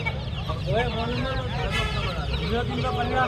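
Aseel hens cluck in short, bright, repeated calls among steady background noise at a Sunday chicken market in Lalukhet, Karachi, fairly close.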